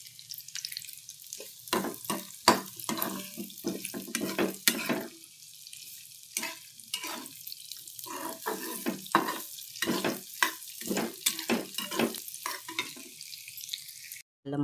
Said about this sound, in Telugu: ఇలా చక్కగా కాసేపు వేపుకుందామండి.